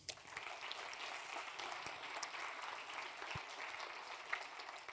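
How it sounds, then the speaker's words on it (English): Conference audience at a Rust programming event claps for the organizers, a faint, distant, steady patter of applause lasting a few seconds. "So big applause to the organizers,"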